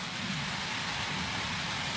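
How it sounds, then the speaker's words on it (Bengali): Hail and heavy rain fall together in a dense, steady, loud hiss that continues without a break for the whole two seconds. "আমি শিলা বৃষ্টি দেখি"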